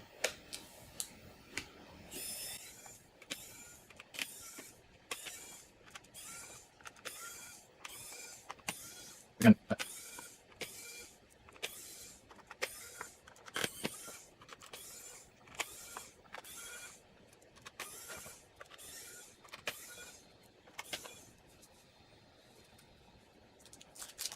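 An electric screwdriver removes screws from a Commodore 64, whirring in many short, quiet bursts, roughly twenty spaced pulses of motor buzz separated by near silence, with the occasional faint click of handling.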